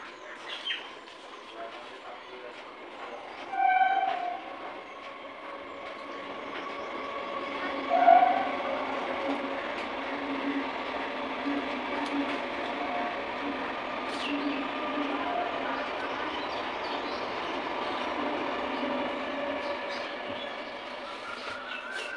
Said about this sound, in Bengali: ঘরে বসে বসে ট্রেনের আওয়াজ বা ট্রেন দেখতে কেমন লাগে বলো তো?